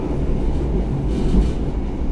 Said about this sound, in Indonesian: seperti inilah suasana di kereta api Bangunkarta eksekutif 4